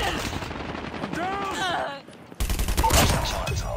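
An HG-40 gun fires in COD Mobile in rapid loud bursts after someone speaks briefly, the shots continuing close and dense to the end.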